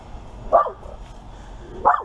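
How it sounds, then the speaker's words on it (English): A neighbor's dog outdoors gives two short, sharp barks about a second and a half apart at moderate distance, over quiet background with no talking. "This is my neighbor's dog."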